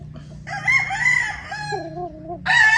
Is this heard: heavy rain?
no